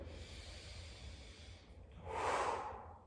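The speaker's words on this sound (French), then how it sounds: "on inspire." A single deep inhale during a bodyweight strengthening workout, heard as a faint steady breath followed by a louder, close rushing intake through the nose near the end.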